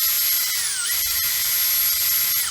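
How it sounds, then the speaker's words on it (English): A power drill spins in reverse, counterclockwise, giving a loud, high, steady whine that dips briefly in pitch and then recovers, heard close up with no talking. "It's drilling backwards,"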